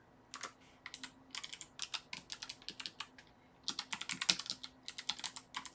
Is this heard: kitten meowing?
no